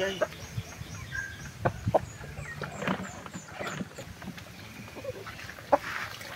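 Black Australorp show-type chicken clucking in short scattered calls over a steady farmyard background with other fowl nearby, moderately close and fairly quiet, with occasional voices.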